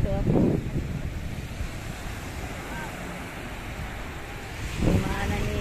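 Sea waves wash ashore at a beach resort in Cavite, a steady broadband surf roar with wind buffeting the microphone and swells rising at the start and end, while someone talks over it.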